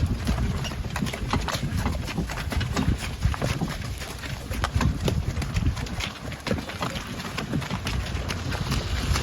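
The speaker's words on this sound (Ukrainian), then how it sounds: "Коні в роботі" Draft horses' hooves clop in a steady walking rhythm, close by, with light wind noise and no talking, in the Lviv region of Ukraine.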